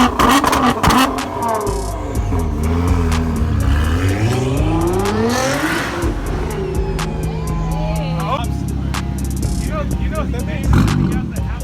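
Several cars rev and accelerate at a high-end car meet, with engine pitches climbing and falling in repeated sweeps and people talking underneath.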